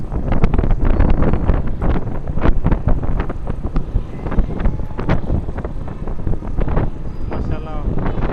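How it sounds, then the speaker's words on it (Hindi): Breeze blowing past a microphone outdoors in Lahore near the Orange Line train by Shalimar Bagh, a constant rough buffeting rumble with gusty bursts throughout while someone talks over it. "बहुत प्यारी हवा चल रही है"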